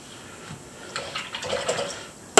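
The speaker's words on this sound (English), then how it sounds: "Rinse my brush." Paintbrush swished and rinsed in a water jar during ink and watercolor painting, a short soft splashing and sloshing up close, ending in a sharp clink, with no talking.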